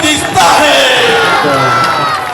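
A large crowd roars and cheers at a PML-N political rally in Sangla Hill, a loud, dense and sustained wall of shouting and whoops that continues throughout.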